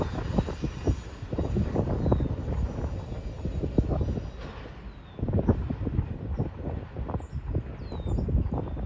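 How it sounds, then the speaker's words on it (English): An NJ Transit train bound for Raritan, led by an ALP-45A locomotive, rolls through rainy Bound Brook, New Jersey, with a steady close rumble of wheels and cars, rhythmic clatter and faint high squeals throughout. "Next was the Jersey Transit 5511 to Raritan, with an ALP 45A leading."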